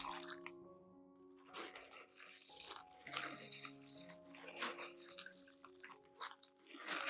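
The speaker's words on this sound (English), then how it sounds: "pour this baking soda solution into the container of stones and soak them for 30 minutes" Baking soda solution pours and splashes over stones in a container for orchid planting, in several bursts of running water over steady background music.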